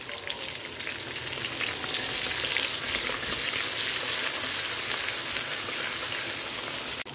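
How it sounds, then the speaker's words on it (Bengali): Cumin seeds and a little ginger fry in hot oil as a tempering, giving a steady, even sizzle that stays fairly quiet and close for the whole stretch. "জিরেটা যে একটু ভাজা হয়ে যাবে"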